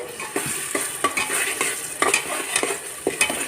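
Spiced potato pulao being stirred and mixed in a pot, a spoon scraping through rice and masala in a steady run of close strokes over a soft background sizzle, with no talking.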